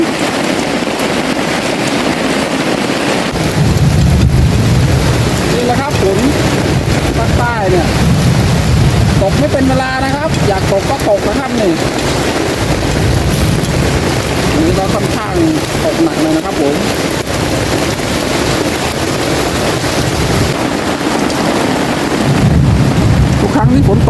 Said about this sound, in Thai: ตกอีกแล้วครับฝน